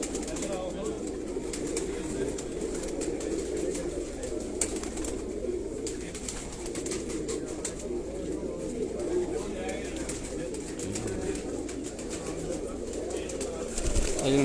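Batera and Kasuri pigeons cooing on a rooftop loft, a steady low murmur of many birds cooing together at moderate distance, continuous throughout, with people talking over it.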